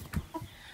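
Chickens in a backyard coop, a rooster with three hens, give a few short low clucks and soft chirps close by in quick succession, with no talking.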